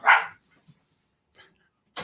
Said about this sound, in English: Pee Wee wants to go out. Make up your mind, dogs